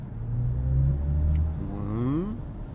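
A 2022 BMW i4 M50 electric car accelerating, its synthetic drive soundtrack a steady low droning hum with tonal layers that rise smoothly in pitch toward the end, loud and close with no talk.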